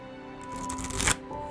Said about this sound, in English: big cards are pretty and really hard to shuffle